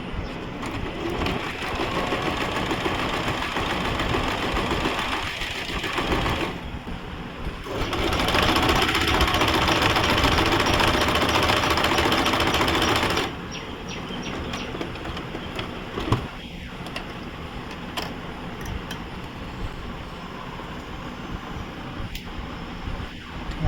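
An Usha Janome Stitch Magic sewing machine runs in long continuous stretches, a dense close mechanical whirr that steps up louder in the middle before dropping back, with a few small clicks near the end and no talking.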